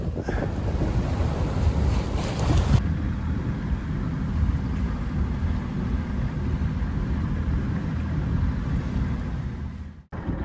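A sailboat under headsail only, no engine, moving through water near Preveza, Greece, with steady wind rumbling on the microphone and waves washing along the hull, continuous and loud.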